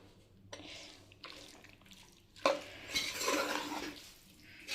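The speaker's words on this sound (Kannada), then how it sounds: "ಈಗ ಒಂದ್ಸರಿ ಚೆನ್ನಾಗಿ ಮಿಕ್ಸ್ ಮಾಡ್ಕೊಳ್ಳಿ." Vegetable kurma is stirred in a cooking pot, producing soft, wet scraping and sloshing strokes in several bursts, the strongest one in the middle, heard close and fairly quiet with no talking.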